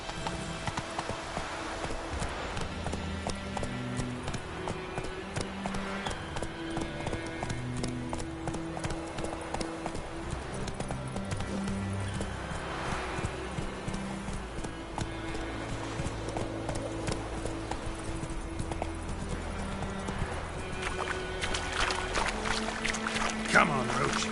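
Horse hooves clip-clop steadily along in The Witcher 3, a continuous rhythmic trot under game music and ambient sound, with a voice talking to the horse.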